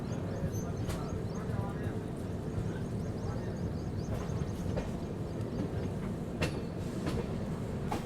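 Northeast Express train hauled by a WAG9 locomotive gathering speed on the main line, with a steady low rumble and rolling wheel noise interrupted by occasional sharp clanks and clicks from the coaches, heard from inside at moderate level.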